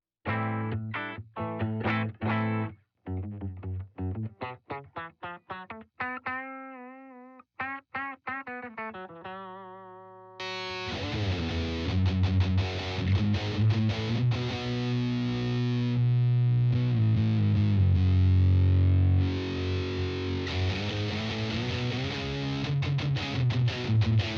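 Electric guitar through an Electro-Harmonix POG2 octave pedal with distortion: first clean choppy plucked notes and short phrases with gaps, then a loud, sustained, thick distorted tone with octave layers ringing continuously to the end.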